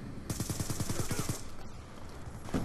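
A sentry gun in a first-person shooter team deathmatch fires a rapid burst of about a dozen evenly spaced shots lasting roughly a second, loud and close, followed by quieter game ambience.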